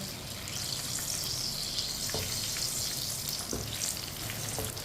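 Chicken pakoras frying in hot oil, a dense bright sizzle running throughout while a spoon stirs them, with a couple of soft scraping knocks against the pan.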